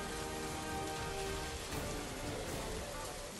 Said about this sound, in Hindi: बच्चू को काफी समय हो गया बारिश में भीगते भीगते।